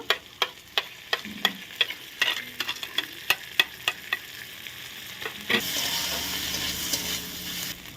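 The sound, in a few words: spices (cumin and ginger paste) frying and being stirred in pan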